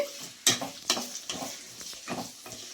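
Onions frying in oil for a fenugreek-leaf chicken curry, stirred with a spoon, soft sizzling broken by several sharp scraping clanks against the pan.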